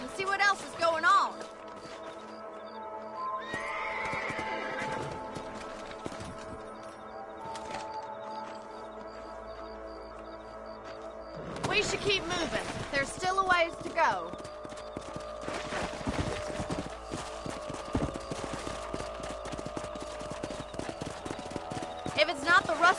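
Horse hooves clip-clop steadily at a walking pace in Red Dead Redemption, with someone speaking briefly over them and an occasional faint whinny.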